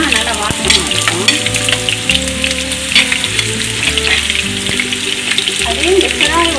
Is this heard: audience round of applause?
no